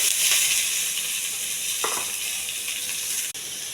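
Urad dal, cumin, mustard seeds, curry leaves and onions sizzle in hot oil, a loud continuous close-up frying hiss with a brief crackle partway through.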